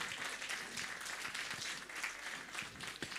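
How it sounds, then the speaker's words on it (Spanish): A church congregation at a Sunday service applauds the choir, a dense, steady wash of clapping lasting a few seconds, fairly quiet and without speech over it. "vamos a dar fuertes aplausos al coro Suyaña"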